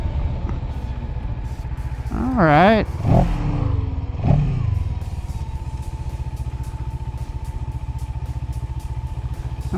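A motorcycle engine idles and rumbles close by as the bike is ridden and its brakes are tested, with a brief rev and a squealing whine partway through, under a short spoken word.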